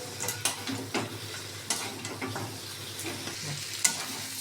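Bhetki fish bones and potatoes are sautéed in a spice paste, with a soft background sizzle broken by repeated scraping and clattering stirs at close range.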